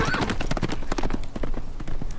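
Horse hooves clip-clop at a steady walking rhythm in the Telltale Game of Thrones video game, close and clear with faint ambient noise behind.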